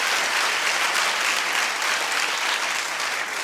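Thick, sustained clapping fills a talk show studio as the audience applauds, loud and even throughout with no talking, tapering only slightly at the very end.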